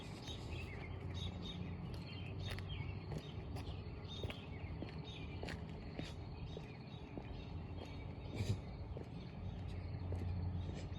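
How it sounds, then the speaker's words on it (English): Small birds chirp and tweet repeatedly in short bright bursts at the corner of a house by a street, over a steady outdoor background hiss, with occasional soft footstep-like knocks. "I think I hear birds chirping at both sides of it syncing."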